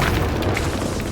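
Expelliarmus spell blast in the Hogwarts Legacy video game, a short, loud, booming magical burst that fills the moment alone.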